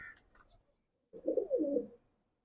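Pigeons coo at a Punjabi village loft, first with a few soft calls, then with a fuller burst of cooing over about a second, heard close and alone.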